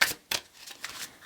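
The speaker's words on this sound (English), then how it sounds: "I want to shuffle the deck" A tarot card deck is riffled by hand in close quick bursts, three or four crisp flutters with brief pauses between, no voice.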